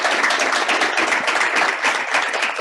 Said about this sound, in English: So if you would please give them all a round of applause for their hard work.